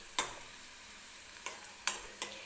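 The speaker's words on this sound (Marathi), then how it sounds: "लसूण हलकासा सोनेरी रंग येईपर्यंत आपल्याला भाजून घ्यायचा आहे तेलामध्ये" Garlic fries gently in oil, giving a faint, steady sizzle punctuated by a few sharp spoon scrapes and taps against the pan.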